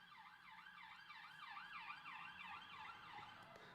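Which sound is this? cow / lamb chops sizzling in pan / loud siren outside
loud siren outside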